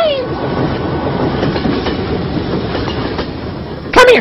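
A train rolls past on rails, loud and close, with a continuous clattering rumble of wheels over the track and a brief sharp squeal near the end.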